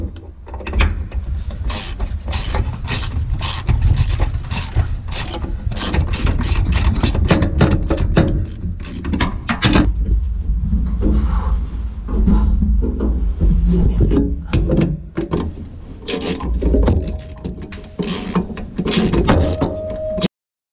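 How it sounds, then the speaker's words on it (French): A ratchet removing a run of bolts from a combine harvester being stripped down for winter storage, a long stretch of rapid, loud, close clicking over steady low mechanical rumble. "Donc j'ai juste les boulons sur tout le long à retirer."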